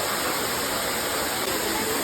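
A waterfall roars as a loud, dense, unbroken rush of falling water heard up close, with no other sounds.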